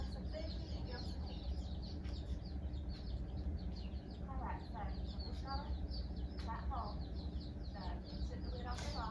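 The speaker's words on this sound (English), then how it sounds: "You can hear the birds chirping." Baby chicks chirp in a busy cluster of short, high peeps scattered across the span, fairly faint beneath a constant low hum of background noise.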